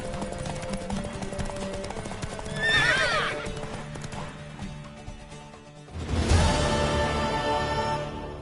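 A video game horse trotting with steady clip-clopping hooves and letting out two loud whinnies, the second stronger and fuller, over a low background score.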